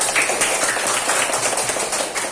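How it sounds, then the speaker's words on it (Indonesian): Children in a classroom clapping their hands together in a quick, continuous patter of many small claps, fairly close and loud throughout. "Eka, kasih tepuk tangan dong."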